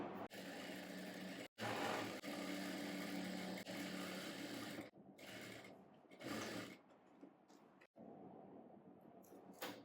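A sewing machine stitches a fabric strip onto a blouse back a quarter inch from the edge, giving a steady close mechanical whir and rattle that runs almost continuously, with a few brief stops.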